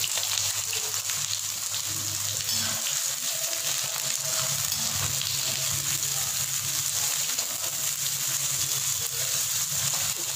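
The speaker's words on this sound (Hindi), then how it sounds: "मेरा तेल गरम हो गया है, मैंने सरसों का तेल यूज़ करती हूँ मैं, और अब उसके बाद मैं इसमें कटे हुए अनियन डाल दूँगी।" Chopped onions frying in hot mustard oil, a steady dense sizzle that holds level and close throughout with no pauses.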